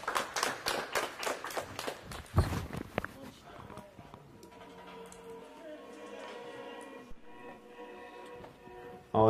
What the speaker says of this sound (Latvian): Aplaus Santai.